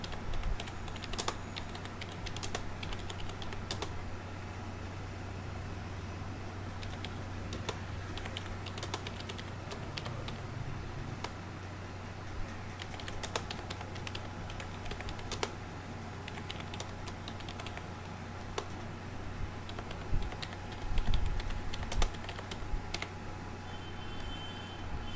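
Quick, light clicks from a computer keyboard as someone types out an answer, with irregular bursts of keystrokes over a low steady hum and no voice.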